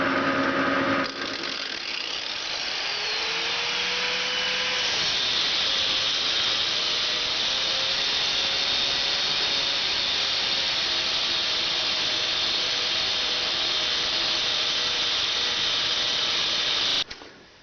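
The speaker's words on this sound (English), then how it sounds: "So I'm gonna try with the angle grinder." An angle grinder works hard spots on metal while a compressed air engine part is being made, a loud, steady high-pitched whine and hiss running continuously at close range before cutting off abruptly at the end.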